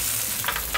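Shrimp stir-fried with XO sauce in a new wok give a short burst of close, hissing sizzle broken by a few quick stirring scrapes, with no talk.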